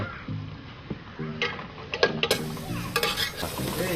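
Onions sautéing in a pan, a soft sizzle with scraping and clattering from stirring, close and moderately quiet.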